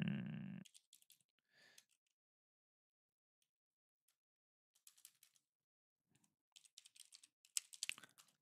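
Keys tapped on a computer keyboard to type a web search, with light, quiet clicks in scattered short bursts separated by silent pauses and a faster flurry of keystrokes at the end.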